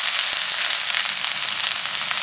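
Fish eggs fry and roast uncovered in an open pan, giving a steady, dense sizzle with fine crackling that stays even and fairly loud throughout.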